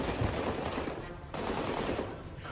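A semi-automatic handgun fires rapid bursts of shots outside the Farragut West Metro station in Washington, harsh and crackling against a noisy background.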